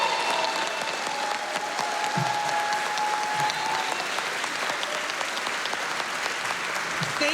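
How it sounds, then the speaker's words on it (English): Audience applause for two candidates at the close of a City of Troy mayoral candidate forum: sustained, evenly textured clapping from a sizable crowd that holds steady throughout, with no talk on top. "you can all give your heartiest applause simultaneously"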